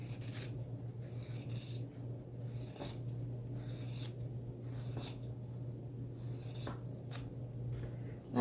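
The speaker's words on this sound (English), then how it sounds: "I'm going to go ahead and cut out block 14's shapes too" Scissors cut quilt block shapes such as circles from fabric, making a series of soft, close snips and rustles spaced a second or two apart over a low steady hum in a quiet room.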